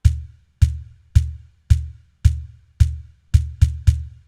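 Nine deep, punchy electronic cajon kicks from a Drumport laser stomp pedal, with a bass thump and short snap, evenly spaced then quickening at the end, each with a brief decay.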